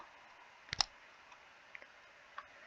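A few sharp computer mouse clicks while drawing in SolidWorks CAD software, a quick double click followed by several fainter isolated clicks against a quiet background.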